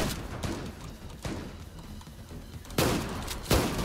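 Gunfire from a powerful gun rings out in a shooter video game, with several loud, sharp shots spaced irregularly over a background of softer crackling fire.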